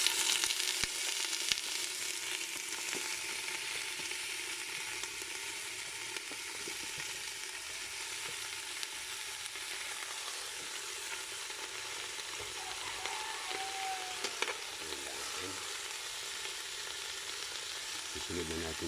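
Mudfish (dalag) sizzles in a hot soup pot, a steady bright frying hiss holding for several seconds with faint stirring clinks and no talk.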